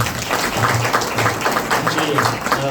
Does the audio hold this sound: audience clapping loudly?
yes